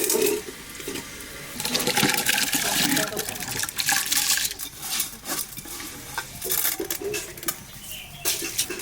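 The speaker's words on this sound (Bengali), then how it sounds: "জল যা গরম হয়েছে, জাল উঠতেছে জলে।" Water heats in a cooking pot until it bubbles, a dense, steady rushing and gurgling that swells and churns unevenly throughout.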